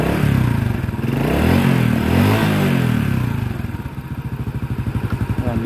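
A Honda XRM motorcycle engine, fitted with a new connecting rod, runs up close and loud, revving up and settling into a steady, rhythmic idle with a slight mechanical clatter.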